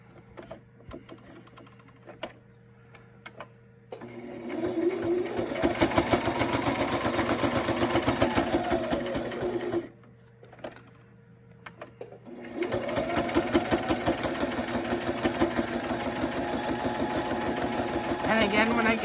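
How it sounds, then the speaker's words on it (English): A sewing machine stitches a fabric bag in two long runs of fast, even needle chatter, separated by quiet pauses while a person talks. "when I get up to this top corner, I'm just going to back stitch a little bit"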